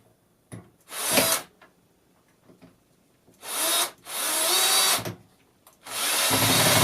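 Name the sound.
power drill driving screws into a bracket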